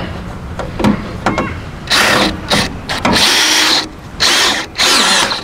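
Bolts being tightened while fitting a sun canopy roof to a John Deere D105 riding mower, heard as a run of mechanical clicks and ratcheting followed by several loud bursts of power-tool whirring, close by with no talk.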